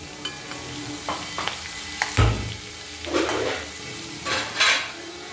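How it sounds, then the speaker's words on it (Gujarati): Stuffed green chillies fry in plenty of oil over low heat, a soft steady sizzle broken by several louder stirring scrapes and clinks of a utensil against the pan, close by with no voices. "તેલથી બધા કોટિંગ થઈ જાય એટલે ધીમા તેલે મસ્ત સરસ ચડે."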